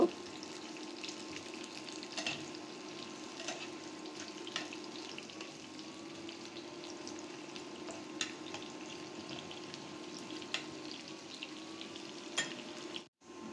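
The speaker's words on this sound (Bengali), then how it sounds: "পেঁয়াজ গোল্ডেন ব্রাউন করে ভেজে নিব।" Soft, continuous sizzle of onions frying golden brown in oil in a pan, quiet and close, with faint clicks and scrapes of stirring and no talking.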